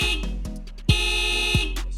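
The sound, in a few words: car alarm going off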